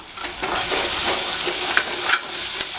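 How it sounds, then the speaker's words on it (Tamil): Cleaned mutton pieces sautéing in a pan for a pressure-cooker mutton chukka with a little gravy, a steady loud sizzle with scraping stirs and a few clinks, no talking. "க்ளீன் பண்ணி எடுத்து வச்சுருக்க மட்டனை இதில் போட்டு வதக்கிடலாம்"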